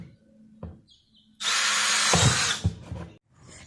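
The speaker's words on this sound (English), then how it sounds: "I was enjoying using the drill so much because it was just so easy" A power drill bores drainage holes in a plant container with a loud, close whir lasting about a second, set between light handling knocks and clatter.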